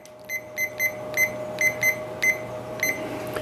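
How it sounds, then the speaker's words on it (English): A kitchen timer being set while a cheese soufflé bakes gives a series of short, sharp electronic beeps in an uneven rhythm, some single and some paired, up close over a steady low hum. "I'm going to set a timer"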